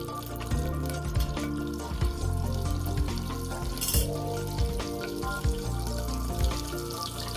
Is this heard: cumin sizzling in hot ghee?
yes